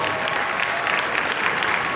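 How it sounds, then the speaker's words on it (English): Loud, dense applause from a large conference audience, sustained and even for the whole stretch with no talking. "Please give them a round of applause."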